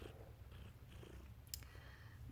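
A cat purrs close by in a steady low rumble that runs continuously, with a brief soft sniff or rustle partway through and no talking.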